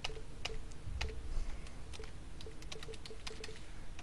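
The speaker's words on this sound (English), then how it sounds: "get your fingers on the right part of the keyboard" Rapid, uneven key clicks from a computer keyboard while entering names into a space strategy game's setup screen, close and fairly quiet over a low hum, with no voices.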